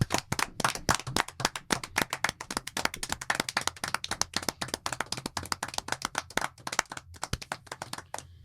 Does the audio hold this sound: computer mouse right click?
no